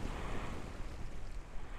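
Steady broadband wash of ocean waves and surf after a craft splashes down in water in Kerbal Space Program, a continuous even roar with wind-like hiss and no voices.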